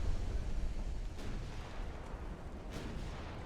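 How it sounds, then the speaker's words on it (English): Warship guns boom in the Ultimate Admiral Dreadnoughts naval game, a dense rumbling barrage with two sharper distant blasts standing out against steady low battle noise. "they're shooting potentially 4 guns at me here"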